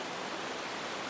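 The Crate River rushes at Three Forks Gap on the Appalachian Trail, a loud, steady broadband roar of water filling everything with no break.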